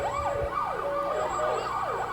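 A fire truck siren wails in a repeating rising-and-falling pattern at a parade in Ontario, loud and steady across the whole stretch, with a constant tone riding alongside and no talking.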